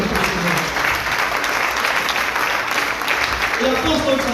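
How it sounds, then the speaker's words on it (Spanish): A church congregation applauding during a sermon, broad sustained clapping from a large crowd filling the whole stretch, with a voice briefly audible near the end. "Demos un aplauso a Jesucristo nuestro Señor."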